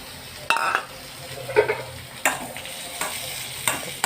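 Tomatoes sautéing in a pan for tomato chutney, with scraping stirs and soft clinks of a utensil against the pan over a low sizzle, close and moderately loud, repeating every second or so.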